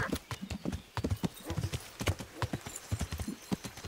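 Horse hooves clip-clop in a quick, even trot on a hard road in the medieval game Kingdom Come: Deliverance, the close rhythmic hoofbeats continuing throughout.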